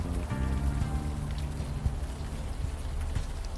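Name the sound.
rain in video game Unavowed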